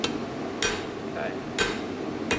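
Three sharp hammer blows on a metal bar during blacksmith spreading work, spaced about a second apart and ringing briefly over a steady low background hum.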